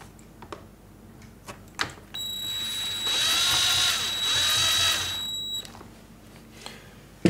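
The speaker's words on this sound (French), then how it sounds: "Ne jamais visser à fond avec une grosse visseuse comme j'ai." Large power screwdriver driving a screw into plastic parts of a Traxxas UDR RC car, a close whining motor burst of about three and a half seconds with a rising tone, framed by small clicks and taps.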